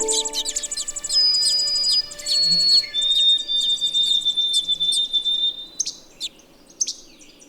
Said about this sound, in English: Right now I hear a least flycatcher,